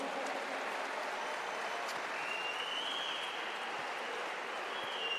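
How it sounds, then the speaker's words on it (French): Steady, dense applause from the audience at a cesta punta match, a continuous rain-like wash of many clapping hands at an even level throughout. "Bravo, messieurs, dames, vous pouvez vous applaudir."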